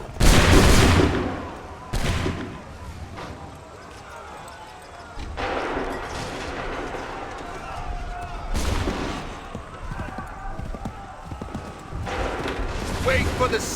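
Musket volleys crack out in the Assassin's Creed 3 video game, several loud broadband bursts spaced a few seconds apart amid battlefield noise, with shouted commands heard between shots.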